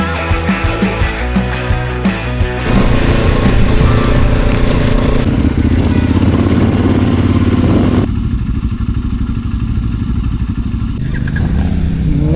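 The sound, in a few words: motorcycle riding on rough roads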